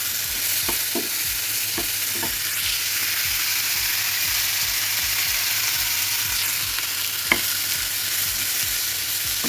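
Meat reheating in a pan, a loud steady sizzle with a regular scraping rhythm of stirring and an occasional sharper clink.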